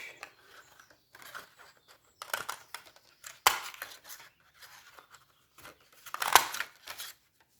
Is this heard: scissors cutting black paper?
yes